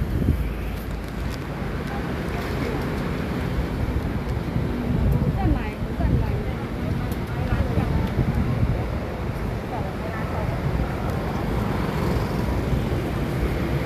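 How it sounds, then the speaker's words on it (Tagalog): Strong wind blows across an outdoor market, a constant loud rumble and microphone buffeting that persists without pause, with people talking underneath. "Malakas ang hangin."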